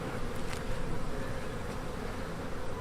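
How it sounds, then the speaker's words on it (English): Honey bees buzz steadily on a frame lifted from a beetle-infested hive after a winter die-off, a dense, continuous close drone with no talking. "So these bees on this frame are part of this hive"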